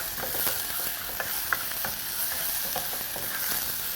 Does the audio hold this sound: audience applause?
no